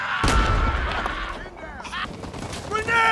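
Gunfire and artillery in the video game Rising Storm 2: a sudden heavy blast opens into sustained rumbling fire with overlapping shots and distant booms, loud throughout, with shouted voices in the chaos.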